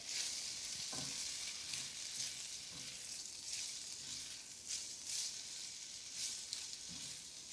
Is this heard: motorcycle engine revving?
no